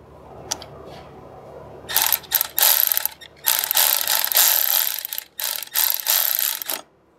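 Ratchet of a torque wrench tightening bolts on an Ibexx snowmobile clutch kit for Arctic Cat and Yamaha sleds: close, loud bursts of rapid clicking in several separate strokes with short pauses between them.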